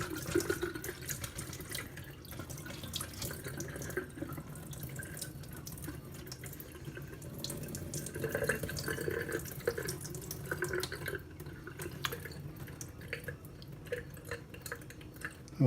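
Tap water runs steadily into a jar of broccoli sprouts being rinsed, with splashing and sloshing shifting in intensity throughout and small drips and clinks of the jar.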